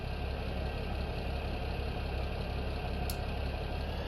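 A tractor engine runs at a steady idle in the Farming Simulator 17 video game, a continuous droning hum with a low rumble, moderately loud and unchanging, with one brief high blip near the end.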